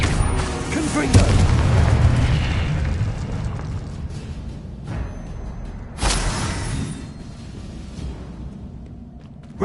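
Confringo blasting spells detonating in Hogwarts Legacy, a few heavy booming explosions with long rumbling decays, including one loud blast early and another about midway, under a voice calling out spell names.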